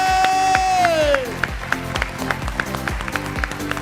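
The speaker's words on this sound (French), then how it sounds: "On va l'applaudir très fort, s'il vous plaît." Audience applause welcomes a guest at a women's brunch event: steady clapping with scattered cheers rising after a sustained musical tone fades, loud and continuous across the room.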